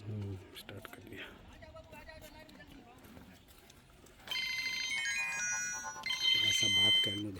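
Mobile phone ringtone for an incoming call from home, a bright repeating electronic melody that starts after a few seconds of talk and grows louder.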